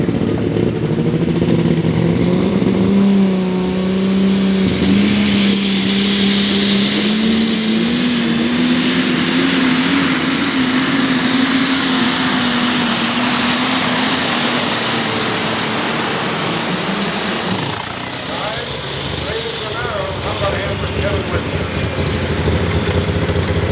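A Super Stock New Holland pulling tractor with an alcohol-burning engine of about 4,000 horsepower roars loudly and steadily as it revs past 5,000 RPM, its high whine climbing and then holding before the engine note drops away near the end.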